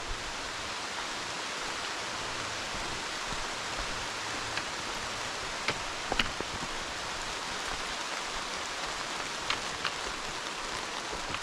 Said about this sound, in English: if it keeps raining, I'm going to get drenched